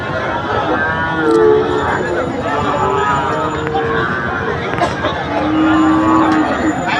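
Sahiwal bull calves and other cattle low repeatedly at a crowded Qurbani cattle market, their moos rising over a constant babble of many people talking nearby.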